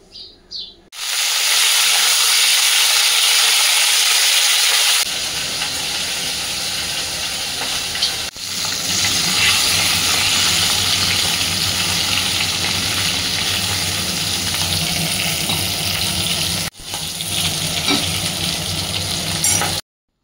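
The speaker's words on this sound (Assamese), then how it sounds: "আৰু এইখিনি হয় মানে মই মাছখিনি ভাজি লওঁ" Pieces of snakehead fish fry in hot oil, giving a loud, dense, continuous sizzle close by, with brief breaks in the hiss and faint birdsong in the background.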